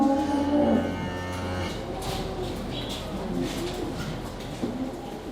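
Dairy cows lowing on a farm at milking time: one close, loud moo opens, followed by fainter lowing and barn murmurs amid steady background noise.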